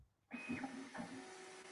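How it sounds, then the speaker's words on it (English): A 3D printer lays down its first layer. Its quiet stepper motors whine in steady tones that switch pitch now and then, faint and continuous after a sudden start. "Oh, I finally hear your printer now."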